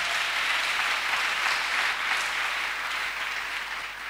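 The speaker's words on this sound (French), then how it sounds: "Acclamation." A crowd applauds during a Friday night prayer gathering in Abidjan, a dense, steady wash of clapping that holds strong and then eases slightly toward the end.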